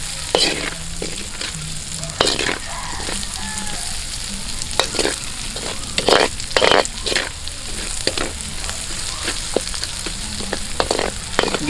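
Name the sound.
sautéing garlic and onion in a pan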